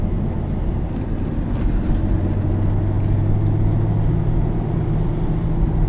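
A 2001 Chevrolet Corvette C5 Z06 drives along, a steady low engine drone and road rumble filling the cabin at constant level, without speech.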